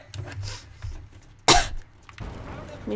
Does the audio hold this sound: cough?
yes